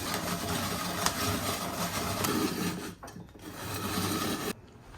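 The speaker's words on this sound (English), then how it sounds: "I'm going to go ahead and grate 2 carrots." Two carrots rubbed against a handheld kitchen grater give a close, continuous rasping scrape in quick repeated strokes, with brief pauses near the end.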